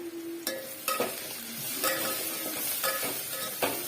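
Spices and turmeric being stirred in a frying pan, with a continuous sizzle broken by several sharp scrapes of a spatula against the pan at irregular intervals; no talk.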